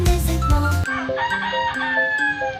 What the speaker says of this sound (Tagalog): Available din po yata pati mga manok panabong rito available sa Secret Store mga idol.